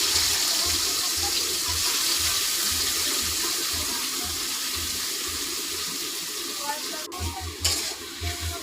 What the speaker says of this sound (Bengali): তেলে আলুটা ছেড়ে দিলাম।